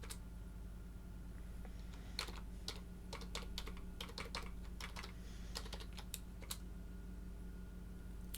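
Computer keyboard typing, faint and close, as irregular clusters of light key clicks over a low steady hum, with short pauses between bursts.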